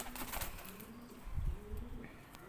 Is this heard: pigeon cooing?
yes